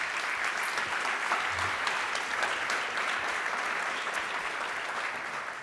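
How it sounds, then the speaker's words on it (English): Conference attendees applaud the newly introduced panel speakers, including a Tetra Pak integration manager, with sustained, even clapping from a full room that stays strong from start to finish and fades slightly at the end. "you can give them a very warm round of applause"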